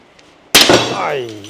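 A pane of toughened window glass is smashed in one sudden loud crash at the start, followed by a bright ringing, crackling shatter that slowly fades, with no talk during the impact.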